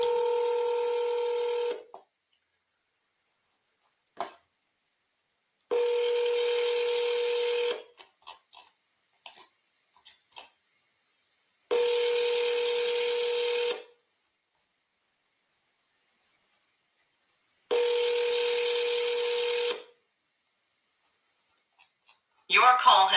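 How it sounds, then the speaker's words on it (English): Telephone call placed during a real estate seller call: repeated two-tone ringback bursts of about two seconds each, spaced several seconds apart, with brief clicks and button tones between them, clear and alone. "let me know if you can hear this dial and these rings"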